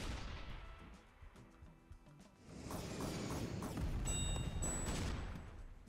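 A dual roller shot fired in the artillery game Shellshock Live: a mechanical ratcheting clatter builds into a loud, sustained rolling barrage of blasts, heard alone without talk.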